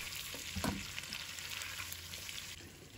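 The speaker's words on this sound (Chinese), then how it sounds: "再把刚才炒好的姜片和大蒜放入锅里，继续翻炒均匀。" Chicken sizzles in a hot pan as browned ginger slices and garlic are stir-fried with it. Steady frying crackle throughout, with a few louder scraping stirs near the start, close and moderately loud.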